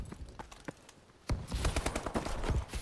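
HBR A3 rifle gunfire in Call of Duty Advanced Warfare starts as scattered distant shots, then a loud burst of rapid automatic fire breaks out and continues in close, dense bursts.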